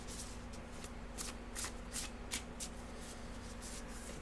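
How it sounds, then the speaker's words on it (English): Oracle cards from the Woodland Wardens deck being shuffled by hand, a soft steady riffling with several brighter card flicks standing out, close and quiet over a low background hum. "nice shuffle"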